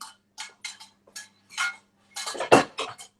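Kitchen dishes and utensils being cleared from a cooking counter: a string of close clinks and clatters of plates, pans and cutlery, irregular taps with a busier clatter toward the end.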